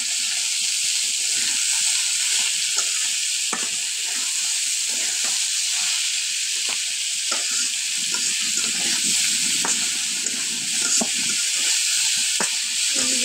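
Ivy gourd (telakucha) goes into a pan of fried spice paste and fries with a loud, continuous sizzle and hiss. Small pops and stirring scrapes sound now and then, and no one talks.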